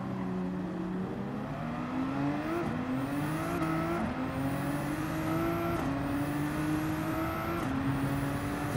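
Nissan GT-R race car engine in Gran Turismo 7, a loud continuous roar rising through repeated upshifts with whining pitch sweeps, the car running steadily at speed with no voices.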